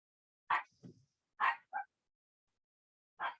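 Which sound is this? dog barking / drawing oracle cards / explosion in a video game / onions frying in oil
dog barking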